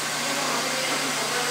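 A vacuum hold-down system in a machine shop runs with a steady, loud, broadband rushing hiss, unbroken throughout.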